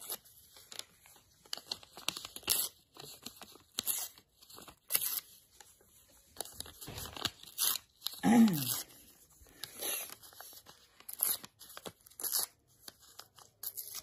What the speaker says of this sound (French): Et on va découper les bords.